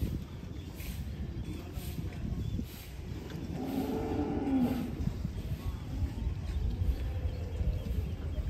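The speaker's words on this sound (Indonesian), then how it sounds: "Sapi Jawa ini." Javanese cattle, restless and fearful of water, give a low drawn-out moo midway through, rising out of steady outdoor rumble and commotion.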